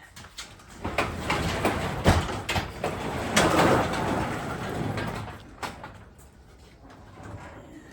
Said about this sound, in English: Let me open the door and we'll take a good look.